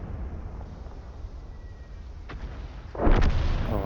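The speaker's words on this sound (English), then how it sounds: "that artillery shot takes out the remaining enemy light tank" Artillery shell fired in World of Tanks on the Airfield map, a sharp booming impact near the end that rings out loudly over steady low battle rumble, preceded by a faint distant crack.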